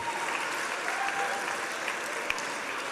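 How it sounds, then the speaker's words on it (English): Sustained applause from a school audience at an annual day event, with children and teachers on stage; dense, steady clapping fills the whole stretch at moderate loudness with no break. "I think they deserve a huge round of applause, audience"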